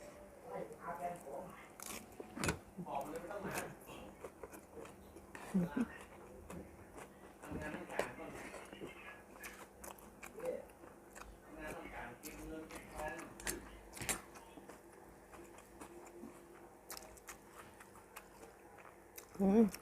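Close crunchy chewing of fresh raw vegetables in a mackerel miang wrap, with repeated soft bites and crunches between stretches of speech at the mic.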